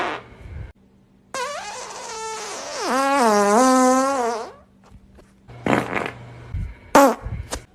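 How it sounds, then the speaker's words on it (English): A man breaks wind in a long, loud, buzzing fart lasting about three seconds with a wavering pitch, then a few shorter, quieter bursts and rustles follow close by. "some people think my toots are fake because they all sound the same"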